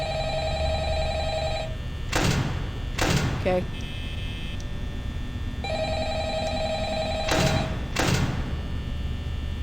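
An electronic phone in the video game Five Nights at Freddy's rings in repeated trilling bursts, with a few dull thumps and a brief spoken word in between.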